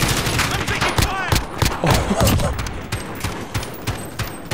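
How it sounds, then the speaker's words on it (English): Bursts of automatic gunfire crackle through a Demolition match in a video game, several overlapping weapons firing rapidly and loudly throughout. "I'm taking fire."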